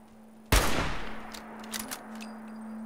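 A single loud gunshot in the Fallout video game cracks out and decays with a long echoing tail, followed by a few fainter distant shots and a steady background hum.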